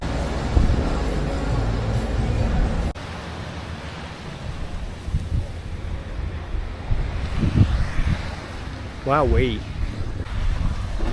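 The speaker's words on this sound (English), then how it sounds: "I don't know if you can hear me right now, it's bloody windy." Strong gusting wind buffets the microphone while zip-lining through the Koh Samui jungle in Thailand, a steady broadband roar that swells and dips, with a brief voiced exclamation and some talk partway through.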